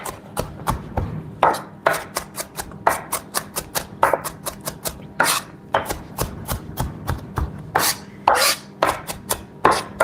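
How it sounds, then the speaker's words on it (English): A knife taps rapidly and unevenly on a cutting board as vegetables are sliced into a fine brunoise, the close, crisp strikes coming in quick runs with short pauses. "So I'm just tiny slicing. We call this very fine brunoise."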